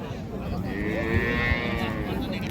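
A dairy cow moos once in a long, low, drawn-out call, close and loud over a steady hum of background noise at Raniganj cattle market.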